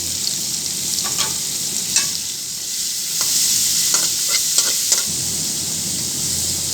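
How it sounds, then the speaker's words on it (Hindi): Onions frying in a pan over browned garlic for a desi-style chicken macaroni, with a steady sizzle and scattered stirring clicks and scrapes, close and alone with no talk. "अब हम इसमें डालेंगे प्याज।"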